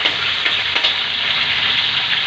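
Onion and garlic sautéing in a hot pan give a steady, close, bright sizzle with a few short crackling pops, running on without a break and with no voices.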